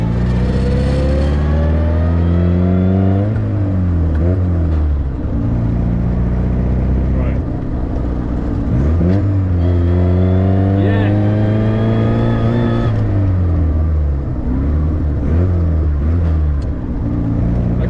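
A vintage MG PB with a non-synchromesh gearbox is driven on the road, its engine droning loudly up and down through revs and gear changes, while a person talks over it from close by.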